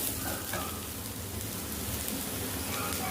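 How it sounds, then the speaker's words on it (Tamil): Garlic stirred and fried in a pan for chutney gives a steady, dense sizzle and crackle, close and continuous, with faint scraping of stirring and no talk. "பூண்டு சேர்த்து நல்லா கிளறி விட்டுக்கலாம்"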